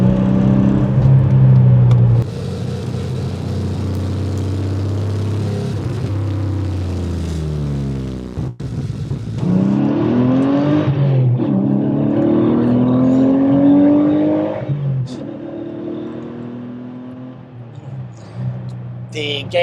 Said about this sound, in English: Sounds great when you're on the gas.